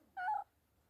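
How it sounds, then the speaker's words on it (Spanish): A friendly cat gives one short, clear meow, about a quarter second long with a tonal, rising-falling voice, close by in otherwise quiet surroundings. "Y acá está el gato cariñoso."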